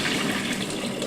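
Running water splashing over soaked almonds as they are rinsed, a brief steady gush close by with no talking.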